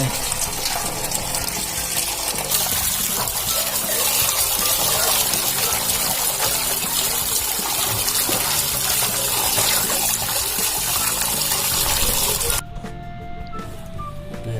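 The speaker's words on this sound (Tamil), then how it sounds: "இருந்தாலும் சாப்பிட்லான்றதுனால அப்படியே வாஷ் பண்ணுறேன்" Running tap water gushes steadily over a 2 kg barracuda being washed, a continuous loud splashing that cuts off near the end, leaving quieter handling sounds.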